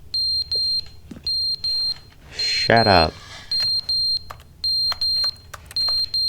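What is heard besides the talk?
fire alarm beeping in The Stanley Parable video game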